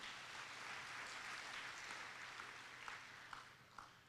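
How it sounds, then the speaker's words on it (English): A large induction-ceremony audience applauds itself, a steady wash of clapping at moderate distance that continues throughout, with a few louder individual claps standing out near the end. "I think you should clap for yourself once again."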